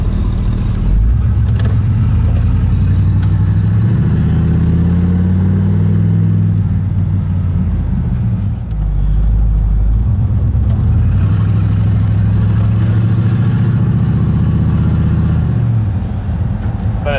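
A 1985 Chevy Caprice station wagon with a Vortec 350 engine drives on the highway, with a steady, loud low engine drone and droning road rumble that runs the whole time. The muffler sits under the seat.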